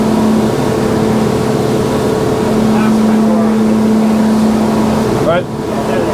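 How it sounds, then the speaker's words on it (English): Motorboat engines drone steadily and loudly as the boat crosses the Gulf of America in fog, a constant broadband roar with a faint tonal hum that dips briefly near the end. "make sure to trim your engines up to 2 bars."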